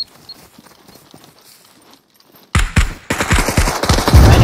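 Gunfire in the survival game SCUM: quiet, muffled movement noise, then sudden loud bursts of rapid shots that keep going to the end of the clip.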